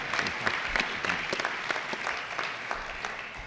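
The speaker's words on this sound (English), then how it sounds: "So let's give them a round of applause." Steady clapping from an evening audience at a public event, a scattered patter of hands at even strength from start to finish.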